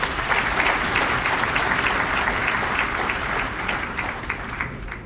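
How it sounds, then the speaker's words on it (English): Steady audience applause at an academic awards ceremony celebrating cancer research, a dense, even wash of clapping from a large crowd lasting the whole stretch without pause. "Please give a round of applause."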